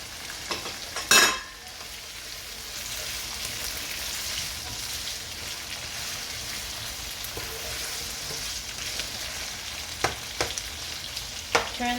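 Sliced green chilies drop into chicken karhai, setting off a sharp burst of sizzling that settles into a steady, close frying hiss with a few faint clinks and stirring scrapes, no voices present.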